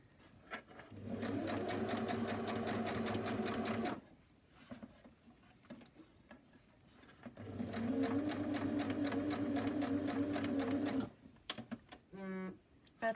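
A sewing machine stitches along the edge of a Covid face mask in two long, steady runs of fast, close whirring, separated by a quiet gap, ending with a brief rattle.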